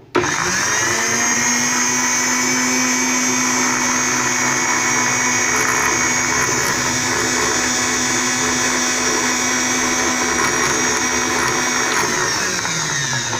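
An electric blender whirs steadily at full speed as it blends a mint margarita drink with fresh mint leaves, a loud, even motor whine running close up for over ten seconds.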